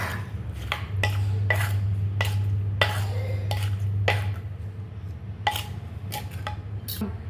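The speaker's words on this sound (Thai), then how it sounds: "ต่อไปเราก็จะคลุกเคล้าให้เข้ากันอย่างนี้ค่ะ" Instant noodle salad (tam mama) ingredients being mixed, with repeated sharp scraping and clattering strokes of a utensil against a dish in an uneven rhythm, close and alone.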